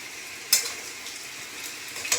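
Vegetables and amaranth stems sautéing in a pan, a soft continuous sizzle with two sharp scraping stirs of a utensil against the pan.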